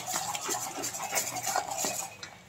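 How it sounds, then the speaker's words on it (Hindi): A spoon scraping and clinking in a pan as masala fries in oil for masala baigan, with steady stirring strokes and light metallic taps, close and fairly loud with no talking. "चलाते रहना है नहीं तो नीचे दाग पकड़ लेगा।"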